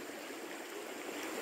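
A mountain stream flowing over rocks, a steady broadband rush of water heard alone and evenly throughout.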